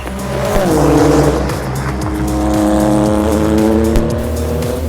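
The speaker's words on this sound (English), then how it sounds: "Not bad for an SUV motor, huh?" Acura race car fitted with a swapped SUV engine, racing on a track: a loud, steady engine drone near the microphone, with revs rising and falling through gear changes and a brief tire squeal.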